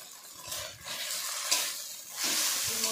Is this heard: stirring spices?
yes